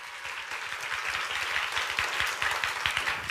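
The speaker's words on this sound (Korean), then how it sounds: "박수 주세요." Clapping from a church audience during a lively youth sermon, a brisk patter of many hands that swells slightly and holds at a moderate, somewhat distant level.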